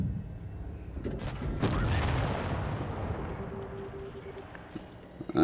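IS-5 heavy tank cannon firing in World of Tanks Blitz: a loud close blast that booms and then decays into a long fading rumble, with another sharp shot shortly after and a short tone near the end.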